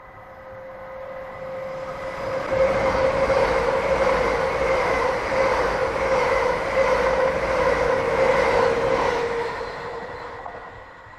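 An express passenger train passes through Alnmouth Station at speed, a broad steady roar of wheels and rail noise swelling in loudly and holding for several seconds before easing slightly, with no voices.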